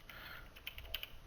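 Fingers typing the name PHQuestBook on a computer keyboard, a short run of quiet, uneven clicks in a room with low background hiss.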